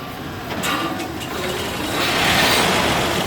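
A 1914 Rolls-Royce Alpine Eagle engine, started by switching on the coil rather than with a starter motor, runs as a steady, loud, rough rumble that swells slightly stronger partway through.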